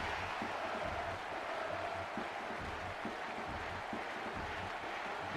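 Stadium crowd in International Superstar Soccer 98 on N64 cheering and applauding after a goal, a steady broadband roar of clapping and crowd noise held at an even level throughout.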